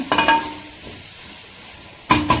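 Juicy tomatoes cook down in a pan with a low continuous sizzle, bracketed by bursts of close clattering stirs at the start and again near the end.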